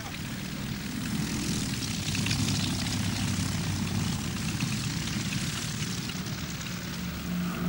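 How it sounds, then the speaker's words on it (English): Junkers 52 trimotor aircraft engines droning steadily in flight, a continuous propeller roar that stays level and fairly loud throughout with no gaps. "the Junkers 52, the aircraft that Franco had to thank for his victory"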